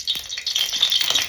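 Mustard seeds crackle and pop in hot oil while it heats for cooking, a busy, close patter of sharp spits that keeps going with no voices.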